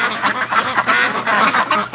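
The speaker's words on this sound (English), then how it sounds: "These are hungry ducks." Several hungry ducks quack repeatedly in a busy, overlapping chorus, close by and fairly loud.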